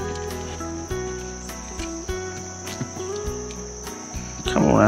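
Crickets chirp on a riverbank at night during a flathead catfish trip on the Altamaha River, a dense steady trill of repeating pulses close by, ending in a brief louder rustle.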